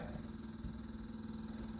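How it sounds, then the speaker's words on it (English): A fuel pump runs steadily in an old vehicle with the choke on, a low rhythmic pulsing buzz with a constant hum, close and continuous, no voices. "we've got a fuel pump cranking, or pumping"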